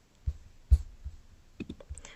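Several soft mouse clicks while working in a FlutterFlow editor, a few sharp isolated taps spread out, quiet and close with no speech.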